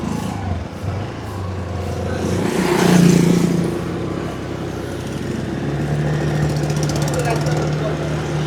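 A motorbike rides through Bali streets with a steady engine drone and passing traffic, swelling briefly as it revs, with speech heard over the riding noise.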